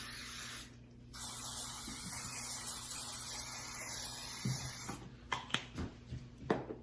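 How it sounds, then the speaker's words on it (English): Non-stick cooking spray hisses in a steady burst of about four seconds onto a skillet heating on medium-high, followed by a few light clicks and taps of handling. "hit our skillet with some non-stick cooking spray"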